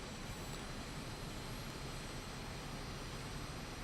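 Aermacchi MB-339 jet trainer in Microsoft Flight Simulator 2024, a steady broadband engine roar with a faint high whine, constant and unbroken throughout with no talking.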